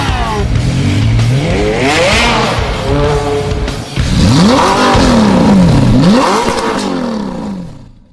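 A Honda CBR1000RR Fireblade superbike in the racing game Ride revs hard and loud, its engine pitch climbing and falling through repeated gear shifts, with a brief dip before surging again and fading out at the end.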